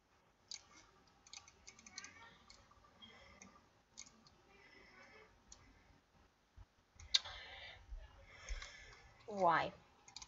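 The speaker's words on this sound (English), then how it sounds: "You guys can hear my mouse clicking." A computer mouse clicks during PC gameplay in short, irregular bursts of light taps, quiet and close, with a brief stretch of talking near the end.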